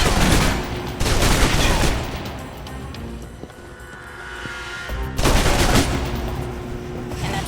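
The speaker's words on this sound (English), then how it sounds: "Now for your submachine guns" Submachine gun fire in the video game Alpha Protocol: dense, loud bursts of rapid automatic shots, with a quieter stretch in the middle before a second heavy burst near the end.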